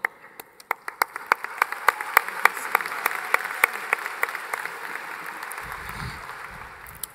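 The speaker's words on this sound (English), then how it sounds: "tonight they deserve so much more than just a round of applause" Audience applause for teachers at a secondary school commencement ceremony, starting with a few sharp, distinct claps that build into steady, moderately dense clapping, with a low rumble near the end.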